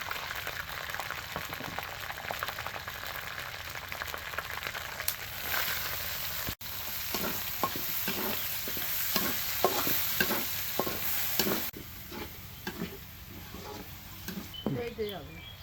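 Chicken pieces fry in a pan for a home-style chicken roast with gravy, a steady sizzle running throughout with repeated stirring scrapes in the second half; a voice speaks briefly over the cooking.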